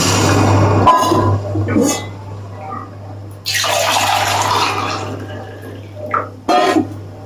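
Hot water poured from a mug into a pot for cooking rice, splashing in a few separate pours with brief pauses and faint clinks, close and fairly loud over a steady low hum.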